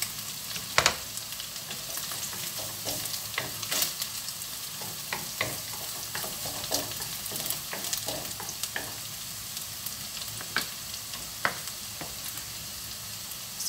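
Garlic going into a hot pan, frying with a steady sizzle and scattered stirring clicks and scrapes throughout, close and moderately loud with no talking.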